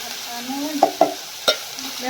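Chopped onions go into hot oil in a pan for a spiny gourd and onion curry: a soft, steady sizzle broken by a few sharp clicks of a spoon stirring.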